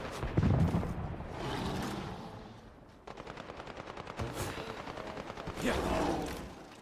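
Enemy gunfire in the video game HighGuard: rapid automatic bursts crackle in a dense rhythmic run, loud and close, with heavier blasts before and after and a voice talking over part of it.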